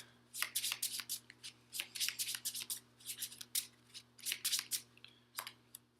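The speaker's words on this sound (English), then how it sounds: "So I'll need to shuffle this to draw a card" A deck of cards is shuffled repeatedly for a round of the Clank! board game, with rapid riffling bursts repeating in a steady rhythm, close and fairly quiet, with no talking.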